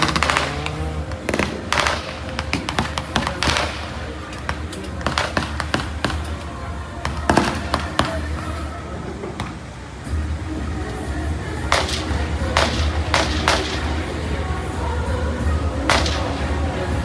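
Live-round gunfire at an outdoor military capability demonstration, heard as sharp, loud cracks and bursts at an irregular rhythm over a steady background rumble.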